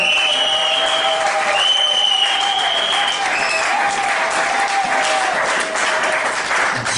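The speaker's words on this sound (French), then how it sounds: "Est-ce qu'on peut acclamer pour le Seigneur?" A church congregation applauds and cheers for the Lord, a dense, loud wash of clapping that carries on steadily for several seconds, with whistle-like cheers rising above it and no clear speech.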